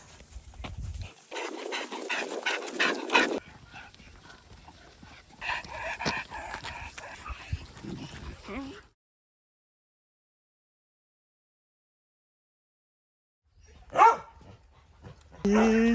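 Dogs at an animal sanctuary in Sangkhlaburi, Thailand pant and bark close by, with a busy stretch of activity, a long silent gap, then a sharp bark near the end.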